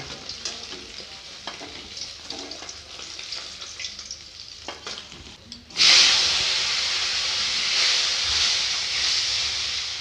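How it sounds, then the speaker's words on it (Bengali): Lailontika fish fries in oil with quiet crackling and stirring, then a loud, steady hiss and sizzle bursts up and continues. "এইভাবে সব মাছগুলো ভেজে নেব"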